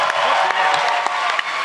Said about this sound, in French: On peut t'applaudir Sam